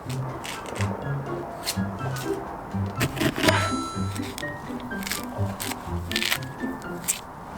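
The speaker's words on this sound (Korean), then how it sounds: "지금 한라봉 3개를 까는데" Hallabong citrus fruits peeled by hand at a hallabong farm produce soft, uneven tearing and squishing sounds up close, broken by small cracks as the thick peel comes away, with some quiet talk in the background.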